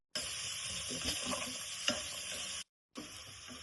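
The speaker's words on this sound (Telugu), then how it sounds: "బ్రోకలీ అన్ని వేసుకొని బాగా ఫ్రై చేసుకోవాలి." Carrots, broccoli and other vegetables stir-frying in a pan for a vegetable and tofu stir fry: a loud, continuous sizzle with scraping stir strokes, cut off by a short silent gap before the frying resumes.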